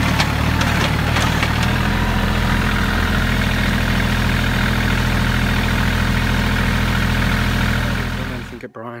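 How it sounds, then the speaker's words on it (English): A tractor engine runs continuously while driving on a homemade racetrack, a loud, close, steady rumbling drone that carries on unbroken before cutting off abruptly near the end. "I'm driving the tractor behind him just so I can get a close up."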